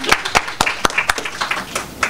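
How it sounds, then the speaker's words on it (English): Scattered clapping from a poetry slam audience, with individual sharp hand claps clearly separated in an uneven rhythm, fairly close and moderately loud, and no talk over it. "Let's give him a round of applause too."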